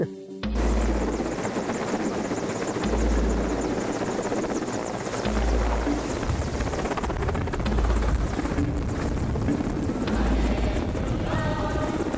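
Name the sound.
helicopter flying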